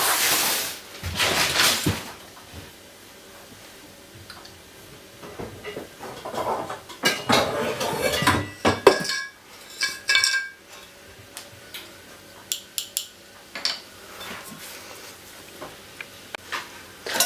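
A saucepan and kitchen utensils clatter while milk is set to heat for crème anglaise, giving irregular clanks, scrapes and taps near and fairly loud, with quieter gaps between bursts.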